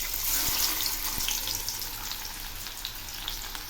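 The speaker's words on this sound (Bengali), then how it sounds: "এখন আমি দিচ্ছি দুটো পেঁয়াজ কুচি," Chopped onions hit hot mustard oil with black cumin in a wok, giving a dense, steady sizzle with faint crackles and a couple of soft knocks, close and moderately quiet, with no talking.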